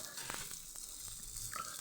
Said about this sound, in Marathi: हे लोखंडी तव्यावर ना लवकर मासे हे होतात, भाजून येतात